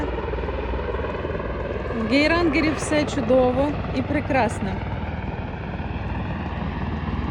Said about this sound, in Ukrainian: гелікоптер повертається.